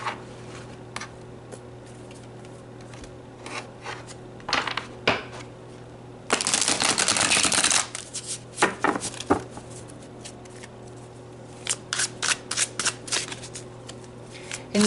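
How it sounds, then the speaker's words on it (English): A deck of tarot cards shuffled by hand in a quiet room, with scattered riffles and snaps, then a loud, sustained burst of card flutter, followed by quicker separate shuffles. "So let's pull some tarot."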